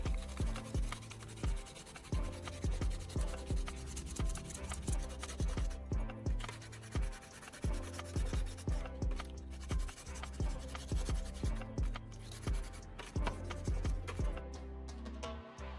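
A restored, rusty old knife blade is rubbed to clean off soot, giving a steady, repetitive scratching and scraping that runs continuously and fairly close.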